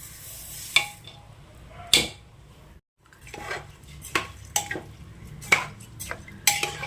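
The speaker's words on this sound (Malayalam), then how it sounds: "ഇനി നമുക്ക് ഇതിലേക്ക് ബിരിയാണി അരി ഇട്ട് കൊടുക്കാം" Washed, drained biryani rice tipped into a pressure cooker for chicken biryani, giving several sharp scraping clinks of a utensil against the metal pot amid soft rustling, with a brief pause midway.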